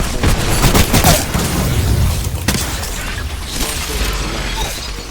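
Heavy gunfire and booming impacts from an Apex Legends ranked match roar continuously and loudly, with sharp cracks piling up in the first half and a dense sustained barrage running to the end.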